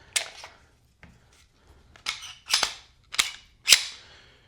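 A Glock 34 pistol's chamber is cleared with a series of crisp, close metallic clicks and clacks, about five distinct snaps spaced apart in a quiet room.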